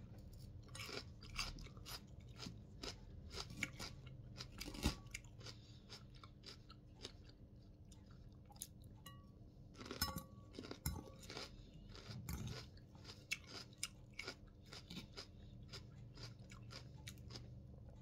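Crunchy celery being chewed close up, steady wet crunching bites repeating throughout at a quiet level with no talk.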